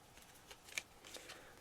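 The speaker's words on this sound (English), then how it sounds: "I do not shuffle this deck, I just overhand shuffle it." A tarot card deck being overhand shuffled by hand, light papery riffles and slaps in a few quick bursts, quiet and close with no talking.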